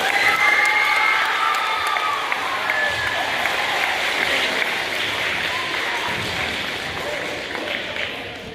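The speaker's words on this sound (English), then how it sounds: "another big round of applause for Sawyer." An audience at a DARE graduation ceremony claps loudly and continuously, with some cheering and shouting mixed into the sustained applause.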